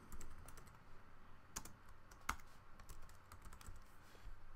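Typing on a computer keyboard while entering a Java Hello World class name: quiet, close-up key taps in a loose irregular patter, with a couple of sharper strikes and no talking.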